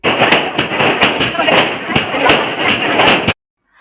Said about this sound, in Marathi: रात्री 12 वाजता हे असे सगळे फटाके फुटत होते